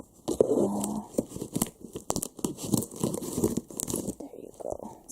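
Scissors cut and tear open the packaging of a delivered parcel, crisp crinkling and ripping bursts coming in an irregular run of close, moderately loud snips and tears.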